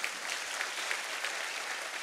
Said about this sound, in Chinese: 要不要给公司一个热烈的掌声？